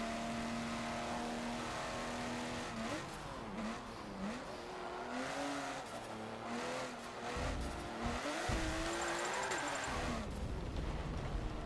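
Race car engine in Forza Motorsport 7, loud and continuous, revving up and down through the gears with sharp pitch sweeps and some tire squeal as the car slides; a voice talks faintly now and then.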